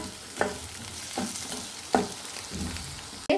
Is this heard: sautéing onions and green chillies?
yes